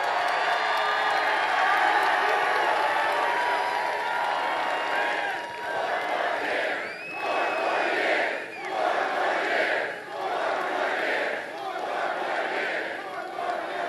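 A large crowd at a Trump campaign rally in Pennsylvania cheers and roars loudly and steadily, with the noise swelling in repeated waves.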